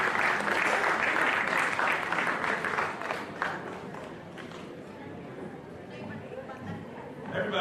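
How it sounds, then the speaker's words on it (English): An audience claps as a speaker is welcomed on stage at a college entrepreneurship summit, with loud, dense applause at the start that gradually thins and eases, then swells again near the end. "Please give her a huge round of applause"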